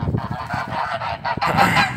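Domestic geese honking in a village yard: several loud, nasal honks in quick, overlapping bursts, close by, with no talking.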